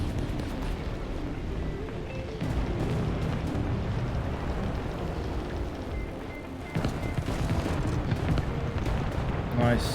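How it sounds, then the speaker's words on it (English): Bombs go off in the War Thunder combat flight game as a dense, rumbling roar of deep explosions and booms, with a player talking over them. "Nice bombs there."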